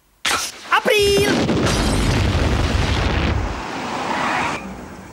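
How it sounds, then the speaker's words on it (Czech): A sudden loud boom bursts out and rolls into a long, rumbling roar that slowly fades, with a brief tonal sound near the start. "To znělo jako výbuch v Simpsonovic rezidenci."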